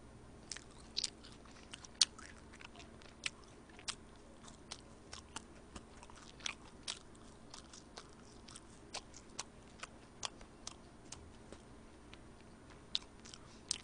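Close crunchy bites and chewing of fried food from a hamburger set with cheese sticks, sharp crisp crunches at irregular intervals over a quiet, steady background, with no talking.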